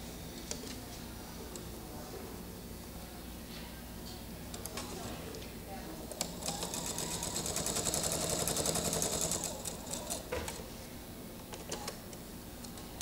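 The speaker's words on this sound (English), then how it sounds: "Now this is just a straight sew" A sewing machine runs a straight seam on quilt pieces, its fast, even ticking swelling for a few seconds mid-clip over a steady background hum.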